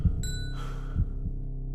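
Heartbeat thumps sound in a tense horror setting, deep low pulses under a brief ringing tone and a soft hum.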